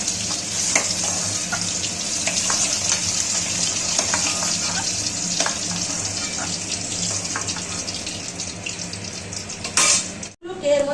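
Duck eggs sizzle and spit in hot oil in a pan, a steady dense frying crackle with occasional clinks of a utensil, close and continuous, with a brief clatter near the end.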